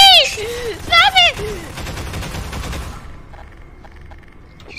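In Garry's Mod Half-Life 2 co-op, rapid loud gunfire bursts into a steady automatic rattle, with a pitched electronic whine early on, then fades toward quiet.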